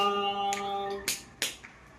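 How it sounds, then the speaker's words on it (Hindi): Sharp finger snaps ring out during a Hanuman havan ritual, two or three crisp clicks in quick succession after a sustained tonal hum, close and fairly clear. "हाथ घुमा करके चुटकी बजाकर"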